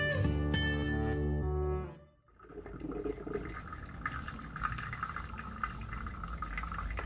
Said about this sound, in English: The gurgling of a coffee maker.